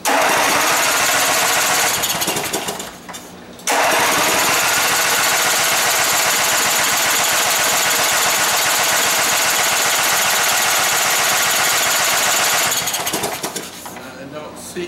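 A twin engine with the ignition on fires up and runs with a loud, rough, rapid chugging that dips briefly, then roars again before tapering off.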